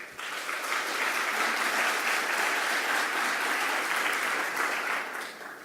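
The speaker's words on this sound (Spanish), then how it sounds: "un aplauso para los dos" Applause from a forum audience for two panelists, a steady, fairly soft wash of clapping that swells in quickly, holds evenly, and tapers slightly at the end.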